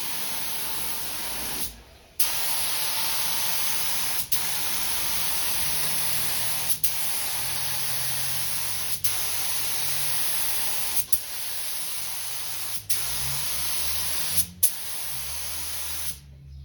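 Rust-Oleum spray paint goes on in a wetter coat, a steady loud aerosol hiss held in long bursts separated by brief pauses and clicks of the nozzle, with no talking.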